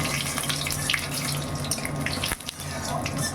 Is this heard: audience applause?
no